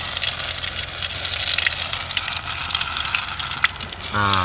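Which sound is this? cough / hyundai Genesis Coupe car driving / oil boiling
oil boiling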